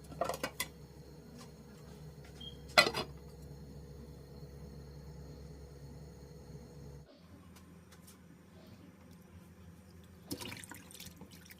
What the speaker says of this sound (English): And add some water, just a little bit above it.